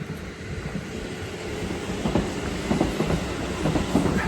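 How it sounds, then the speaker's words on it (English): A passing bullet train rumbles steadily with rhythmic clacking of wheels on the track, a continuous low roar growing slightly louder toward the end. "There goes the bullet train."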